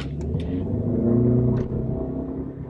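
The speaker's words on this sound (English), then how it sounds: "I'll just do a dead stop and do a start" A front-wheel-drive car pulls away from a dead stop, its engine rising in a loud, steady rumble that swells and then eases slightly, heard close with no talking.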